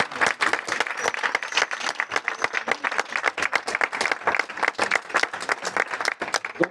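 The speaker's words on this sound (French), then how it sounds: "Et je vous demande de les applaudir très fort" Loud, close applause from an audience for actors, artists and volunteers, a fast irregular patter of many clapping hands sustained throughout without voices.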